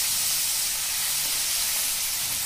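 Chilli soya sauce sizzling in a hot pan as it is stirred together after a splash of water, a steady bright hiss running throughout without pause.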